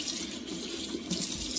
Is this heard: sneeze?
no